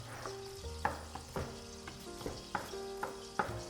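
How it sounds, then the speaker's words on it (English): Finely chopped onions fry in oil in a pan on low heat for a chicken curry, a soft close sizzle broken by regular spoon taps and stirring clinks against the pan. "put your onions in. Put it on low gas at the moment"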